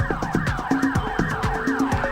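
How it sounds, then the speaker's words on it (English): In the video game The Getaway, police sirens sweep up and down in repeating arcs over car engine rumble and occasional skidding, loud and near with no voices. "Can you hear the sirens?"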